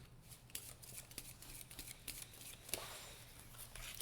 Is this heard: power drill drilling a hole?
no